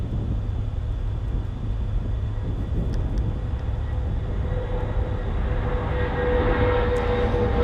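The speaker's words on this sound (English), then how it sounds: "Here we go with another takeoff." A passenger jet taking off at Charlotte Douglas Airport, a steady broad engine roar heard from a distance that builds slightly louder toward the end, with no talk.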